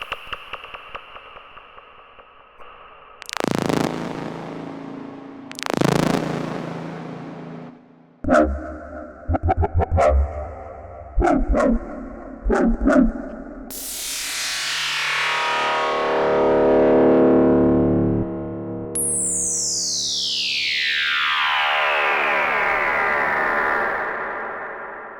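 A free software synthesizer plugin plays lead, keyboard and effect patches: clipped tones, stuttering bursts, rising and falling sweeps, and a bright swooping effect that fades, all loud and clean with no talk.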